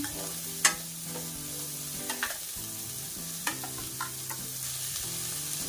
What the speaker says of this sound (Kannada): ಹಾಗೆ ಬೀನ್ಸು, ಹಾಗೆ ಕ್ಯಾರೆಟ್ ಇಷ್ಟನ್ನು ಹಾಕಿ ಚೆನ್ನಾಗಿ ಫ್ರೈ ಮಾಡ್ಕೋಬೇಕು